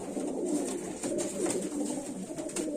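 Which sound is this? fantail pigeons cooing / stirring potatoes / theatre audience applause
fantail pigeons cooing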